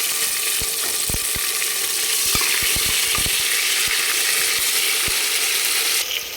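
Food sautéing in a pan before tomatoes go in, a steady loud sizzle with scattered clicks and taps from stirring, close and without talk.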